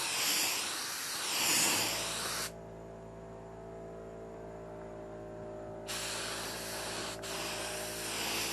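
A paint spray gun hisses loudly as it lays a light coat on a Saturn rear quarter panel, with two separate bursts of spraying divided by a few seconds of low steady hum.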